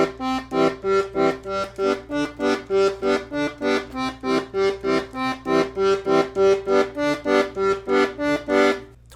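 A 48 bass accordion plays two measures of C then two of G, its steady pumped bass-and-chord pattern pulsing evenly in about twenty regular reedy beats, close and alone.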